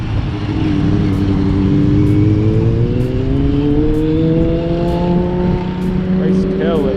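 A loud classic car revs hard as it drives past, its engine note climbing in pitch with rising harmonics and a rough exhaust roar, close and continuous, with a voice briefly heard over it.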